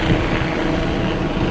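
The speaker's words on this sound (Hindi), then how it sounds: "ऊपर से ये हेलीकॉप्टर जा रहा है," A helicopter passing overhead above a garden of potato and plum plants, a loud, steady broadband rotor and engine roar that fills the whole stretch without a break.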